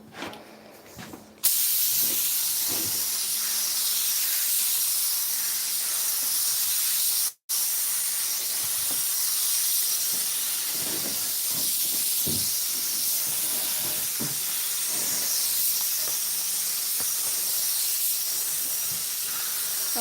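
Steady spray-paint hiss from a paint gun or can coating an 1988 Suburban in a shop, a continuous broadband rush that runs nearly unbroken for twenty seconds with a brief cut partway through and no talking.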